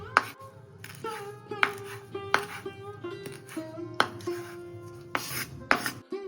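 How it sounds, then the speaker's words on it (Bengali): A knife chops green chilies and coriander leaves on a board in sharp, regular strikes roughly every half second, over a steady tonal background. "প্রথমেই কাঁচা লঙ্কা আর ধনে পাতাটা কুচি করে নিলাম"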